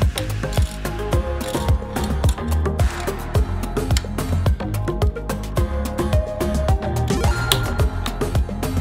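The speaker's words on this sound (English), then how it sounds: "The new cover will act as both clamp and lens protection, and on top of that it's super easy to get on and off." A DJI Mavic Air gimbal cover clamp is snapped on and pulled off repeatedly, making dense, close plastic clicks and ratcheting clatter in a busy, continuous rhythm.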